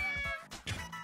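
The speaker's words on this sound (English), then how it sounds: "Insert a knob to hear cats" Short electronic cat meows play from a Nintendo Labo Toy-Con cardboard piano, two or three quick mews in about a second, close and clear.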